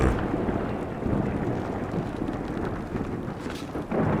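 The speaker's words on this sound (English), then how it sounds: "This thunder is quite loud" Loud thunder in the horror video game Lunacy: Saint Rhodes rumbles as a deep, continuous roll with a windy, rain-like wash, strongest at the start and holding steady throughout, with no speech.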